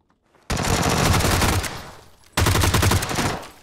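G36C rifle firing in a video game, two loud sustained automatic bursts, the first about two seconds long and the second shorter after a brief pause, close and with no voices.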